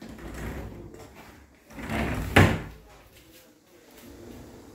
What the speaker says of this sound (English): Close the door behind you, please.